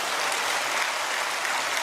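A church congregation claps together in a continuous wash of applause, dense and even throughout without any voices.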